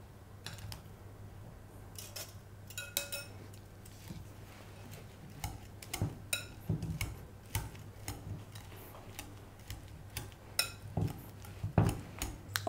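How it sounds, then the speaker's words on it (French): Irregular metal clinks and scrapes of a fork mashing cooked potatoes in a pot or bowl, close and sporadic over a low steady hum, without speech. "Lorsqu'elles sont cuites, les égouttez et les écraser elles aussi à l'aide d'une fourchette ou d'un fouet."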